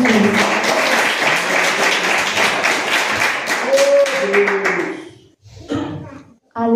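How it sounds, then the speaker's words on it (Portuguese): A church congregation gives a joyful round of applause for Jesus, dense clapping filling the hall for about five seconds before tapering into scattered claps and a few voices. "dar uma salva de palmas bem alegre para o Senhor Jesus"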